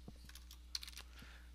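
Computer keyboard typing while text is entered into website home widget settings, a quiet run of light key clicks with a few sharper taps, close by over low steady room hum.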